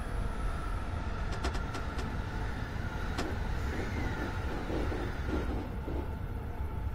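A commuter train on the Keihin Tohoku line in a Tokyo train simulator game rumbles past, a steady low rolling drone with a few sharp clicks, close and continuous with no talking.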